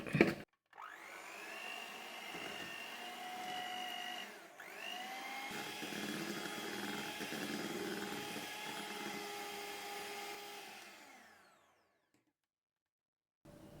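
An electric mixer beats whipping cream with half a cup of powdered sugar for strawberry ice cream, a steady whirring motor drone that pauses briefly near the middle, then runs on for several seconds before stopping. No one speaks.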